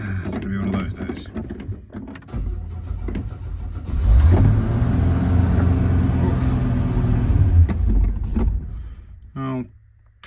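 A Ford XA Falcon engine cranks, fires and settles into a loud, steady idle on full choke, running for several seconds before cutting out near the end, with a person talking over it at times.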